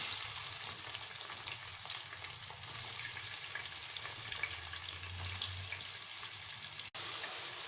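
Onion sautéing in hot oil with spices for macaroni, a constant dense frying hiss, close and even, with a low rumble underneath and a brief cut near the end, no talking.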